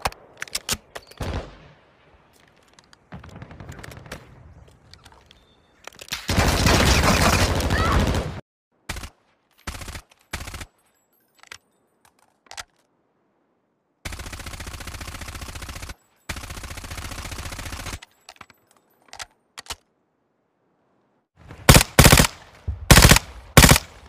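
ISO SMG fire from COD Mobile and Warzone Mobile, heard as several loud sustained automatic bursts of one to four seconds, separated by quiet gaps, shorter reload clicks and brief noises, with quick rapid bursts near the end.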